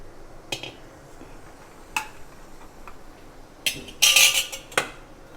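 A few scattered clinks and taps of metal, then a brief rushing clatter as soaked kidney beans pour into a pan for boiling, followed by another knock.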